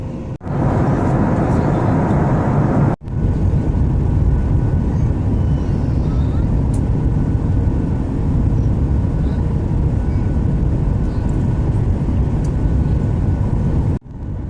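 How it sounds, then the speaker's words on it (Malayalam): Inside an Akasa Air airliner descending toward Bangalore, a loud steady cabin roar of engines and airflow fills the whole stretch, broken only by a couple of brief clicks. "ഫ്ലൈറ്റ് ഇപ്പോൾ താഴ്ന്നു പറന്ന് തുടങ്ങി."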